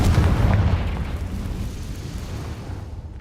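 A Confringo blasting spell detonates in a Harry Potter video game as one loud, low explosion. The burst lands at the start, and its rumbling roar slowly fades over a few seconds with no voices.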